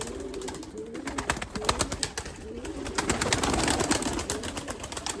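Limoni breeding pigeons coo softly over a busy flutter of wings and scratching, several birds close by.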